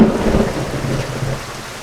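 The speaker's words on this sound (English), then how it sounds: "our awning being destroyed by this storm rolling in up the ocean" A thunderstorm rolling in over the ocean at night, a loud deep rumble of thunder with steady rain washing across the shore and beating on an awning, the roar easing slightly but continuing throughout.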